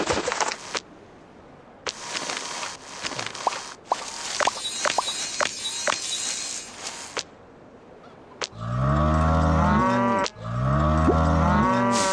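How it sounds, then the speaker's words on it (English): Cartoonish cows mooing in the farming game Township, with scattered clicks and game effects first, then two long, loud, harmonic moos near the end. "I have 2 sets of cows."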